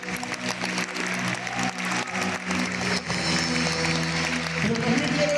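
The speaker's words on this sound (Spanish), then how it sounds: "Denle fuerte ese aplauso a Dios." A church congregation applauds loudly and continuously in a crowd of clapping hands, with some voices mixed in.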